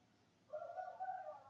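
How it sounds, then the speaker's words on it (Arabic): Bird calling in the early morning at about six, a faint, distant few-note call heard once over quiet room ambience. "سامعين صوت العصافير من الصبح على فكره"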